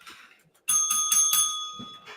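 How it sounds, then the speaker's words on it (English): A bicycle-style bell rings several times in a quick burst of bright metallic dings, loud and close, with its tone lingering as it fades and no talk over it. "There's a bell."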